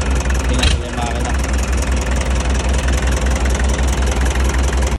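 A jeepney engine idles at close range with a steady, loud, clattering mechanical drone, interrupted briefly by a short sharp noise near the start.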